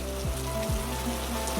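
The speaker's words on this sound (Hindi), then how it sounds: "बारिश अब हल्की फुहार में बदल चुकी थी।" Light drizzle patters softly and continuously, a faint even hiss of fine raindrops with a low steady drone beneath, no voices.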